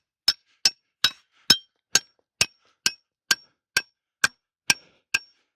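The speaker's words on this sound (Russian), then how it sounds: "Вбиваем коле." Twelve sharp, ringing hammer blows drive a stake into the ground as an ATV winch anchor, struck at a steady, even pace, each hit clear and metallic with a short decay in otherwise quiet surroundings.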